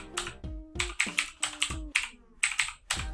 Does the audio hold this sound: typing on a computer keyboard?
yes